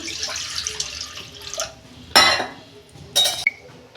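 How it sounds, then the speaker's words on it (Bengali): Water goes into a karai in two short, splashy bursts, each under half a second, following soft clinks of kitchenware. "কড়াই জল দিচ্ছি"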